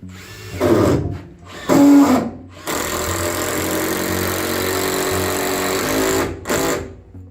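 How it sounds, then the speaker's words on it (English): A power drill whirs in two short bursts, then runs in one long sustained drive, winding down, with a final brief burst; driving a screw to fix a gable piece in a building, close and loud, no talking. "grab yourself your drill and just driving in"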